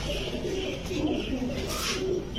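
A large-winged pigeon gives several soft, low coos in quick succession, heard close up over a steady background hum.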